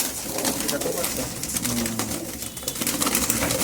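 Kalsira pigeons cooing close by in a loft, soft repeated low coos over a busy background with a faint voice.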